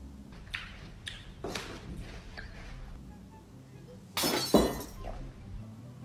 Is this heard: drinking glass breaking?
yes